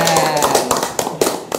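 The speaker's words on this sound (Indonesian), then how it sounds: "Tepuk tangan." A few scattered hand claps ring out close by, sharp and irregular, with voices in the background.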